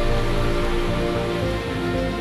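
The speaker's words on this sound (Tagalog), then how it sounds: "Silong tayo, ulan." Steady rain falls in a constant, even patter on a surface on a city street, with a low hum underneath and no voices.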